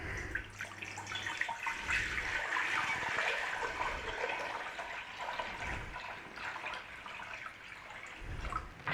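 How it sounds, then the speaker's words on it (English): Water pours steadily into an Instant Pot around a jug standing on a trivet, a continuous splashing, gurgling stream that fills the whole stretch at close range. "fill to halfway up the jug with water"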